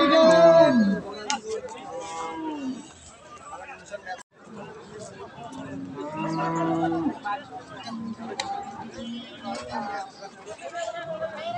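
A Jersey or Friesian dairy cow with her calf at a busy rural cattle market in Bangladesh lows several times, loud and close, over steady crowd chatter and nearby talking.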